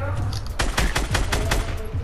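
Rapid bursts of gunfire in a Fortnite match, a dense volley of sharp repeated shots over about two seconds, loud and close against a steady game background.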